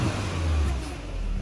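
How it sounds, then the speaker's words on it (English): Turbocharged 2.0-litre four-cylinder engine of a 2018 Porsche Macan running while parked, a steady close, loud low rumble throughout with no talk. "Nice Porsche sound."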